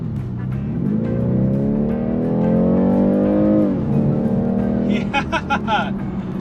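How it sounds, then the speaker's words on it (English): A BMW G23 430 convertible's four-cylinder engine revs up steadily under acceleration, pitch climbing then dropping at a gear change, with a voice talking over it close by. "This is the 4-cylinder motor, and it was quick and up and quick to go."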